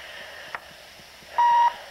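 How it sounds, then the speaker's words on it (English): Single answering machine voicemail beep, a clean steady tone lasting about a third of a second after a recorded greeting, over a faint background hiss with a small click before it. "If you wish to, you may leave a message at the sound of the beep"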